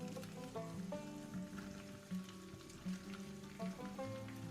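Vegetables sizzle steadily in unsalted butter inside a covered pan, a soft continuous frying hiss under background music.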